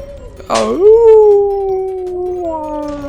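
A werewolf enemy in the Arknights video game lets out one long, loud, sustained howl that slowly drifts downward before trailing off, with no talking over it.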